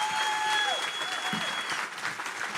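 An audience claps steadily in a dense round of applause throughout, with a faint tone and a little speech-like sound at the start.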